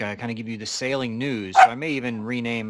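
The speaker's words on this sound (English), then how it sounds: "sorry about the dogs" Dogs barking and whimpering in the background of an indoor sailing news podcast, short yips and whines mixed in with someone speaking steadily over them.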